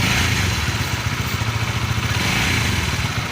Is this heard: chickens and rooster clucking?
no